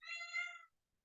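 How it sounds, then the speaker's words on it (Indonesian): A pet cat gives a single short meow, close but quiet, heard on its own in a home during an online meeting. "Maaf ya kucing Ibu berisik."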